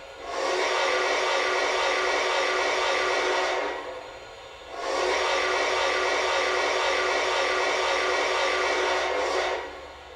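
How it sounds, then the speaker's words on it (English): A steady, bright O gauge model train whistle blows for several seconds, cuts off briefly, then sounds again in a second long blast, loud and close. "This whistle is fantastic."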